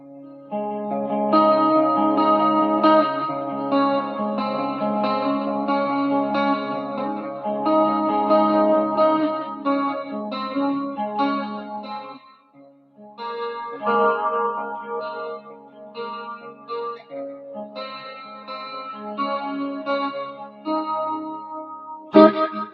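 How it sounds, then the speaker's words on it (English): Electric guitar played through chorus, hall reverb and two cascading delays, with its two pickups wired out of phase, ringing in layered shimmering notes that swell and repeat, a brief pause near the middle before the washy playing resumes, with no talking. "That is chorus, hall reverb, two different cascading delays, and then these two pickups out of phase with each other."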